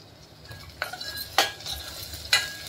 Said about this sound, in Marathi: आणि मेन कढीपत्ता टाकूया आपण, तळून टाकूया।